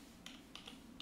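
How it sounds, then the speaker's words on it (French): Soft clicks of a computer keyboard as text is edited in Blender, three or four separate keystrokes spaced about a third of a second apart, quiet and close against a faint background hum. "je peux, avec le clavier, changer le texte."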